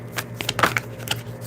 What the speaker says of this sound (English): I'm just gonna shuffle and see what comes out.